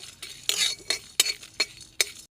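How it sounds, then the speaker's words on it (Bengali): Whole dried chillies, cumin, black pepper and panch phoron dry-roasted over low heat, heard as about six short, close scraping and rattling strokes of a spoon in the pan. "দুটা গোটা লঙ্কা নিচ্ছি আর জিরে গোলমরিচ পাঁচ ফোড়ন ভেজে নিচ্ছি হালকা আঁচে"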